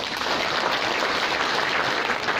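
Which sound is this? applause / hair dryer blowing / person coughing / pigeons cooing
applause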